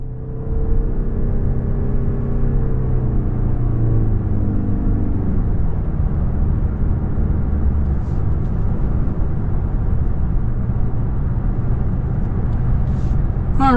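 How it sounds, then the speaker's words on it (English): A 2026 Toyota Crown Limited cruising on the road, heard from inside as a steady low rumble of road and engine noise with no talking. "we're out on the road in this 26 Crown Limited"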